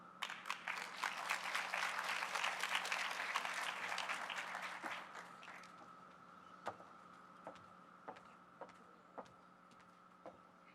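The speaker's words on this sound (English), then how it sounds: "Can we have another round of applause for our class of 2028" A crowd at a school grade 5 moving-up ceremony gives warm applause for the graduating class, dense clapping for about five seconds that fades into a few scattered claps and a steady hum.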